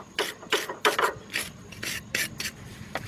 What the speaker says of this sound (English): Clean off the brake pads.